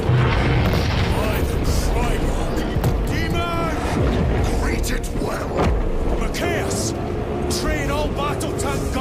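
Gunfire and explosions in the Warhammer 40K Space Marine II video game, dense booms and shots packed under shouted voices and orchestral music, loud and continuous throughout.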